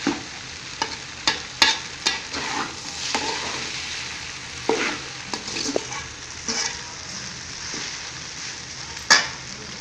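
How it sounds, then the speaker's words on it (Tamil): Egg noodles fry in a pan with a steady sizzle as a utensil stirs and scrapes them. Sharp clinks and scrapes of the utensil against the pan recur irregularly, close and clear. "நல்லா கலந்து விட்டுக்கோங்க."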